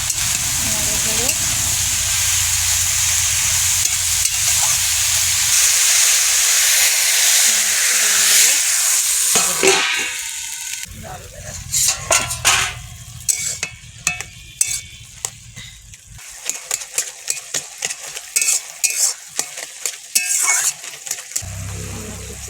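Spices with salt and turmeric sizzle loudly in a frying pan for about ten seconds, then a spoon scrapes and clatters against the pan in irregular bursts of stirring over a quieter background sizzle.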